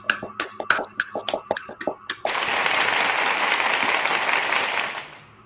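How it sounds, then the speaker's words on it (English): An audience claps, first as a few sharp, spaced handclaps close by, then swelling into a dense, sustained round of applause that fades toward the end, with no talk over it. "give a good, gracious round of applause to Brother JC."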